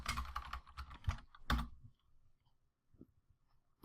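Rapid typing on a computer keyboard at a Windows command prompt: a dense run of close, crisp keystrokes, then a pause with a couple of isolated taps and a final click.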